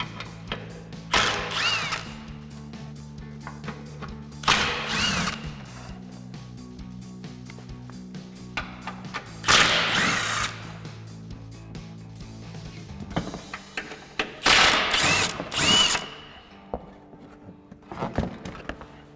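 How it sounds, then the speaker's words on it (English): A ratchet and 15mm socket remove bolts from the front of a 2014-2015 Silverado 1500 during a bumper swap, with bursts of clicking ratcheting and metallic clinks separated by pauses and clatter. "I'm gonna grab a 15mm socket to remove these bolts"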